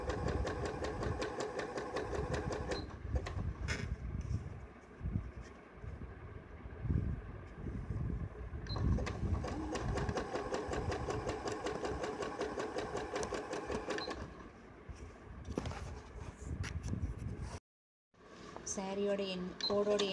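A sewing machine at medium speed runs a zig-zag stitch along a saree edge, a close, continuous mechanical chatter with a few brief stops and one short silent gap near the end, while a voice talks faintly underneath.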